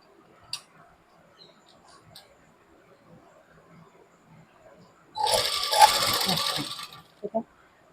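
Sewing machine stitching a pocket on palazzo pants, starting after scattered faint handling clicks with a short burst of rapid, fairly loud whirring and chattering, followed by a couple of sharp taps.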